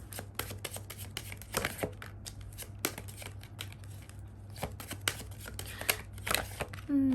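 Tarot cards shuffled by hand in short, soft riffling bursts and taps spread across the clip, fairly quiet with a low steady hum beneath and a brief tone near the end.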